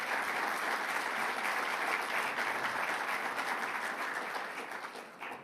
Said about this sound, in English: So let's give a round of applause to Governor Phil Murphy.